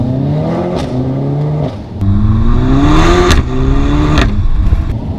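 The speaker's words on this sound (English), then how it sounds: "sometimes they don't want to have the loudest exhaust. Like this." A remapped Audi S3 revving through a loud exhaust, with several rising engine pulls and throttle blips, close up and loud, with no talking.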